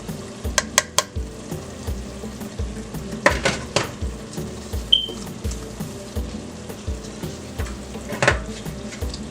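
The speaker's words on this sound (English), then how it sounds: "Stir it into that tomato paste with all the seasoning." Seasoning stirred into tomato paste in a pot for Haitian-style spaghetti, with irregular close scrapes and knocks of a utensil against the pot over a low sizzle, the clinks scattered unevenly through the clip.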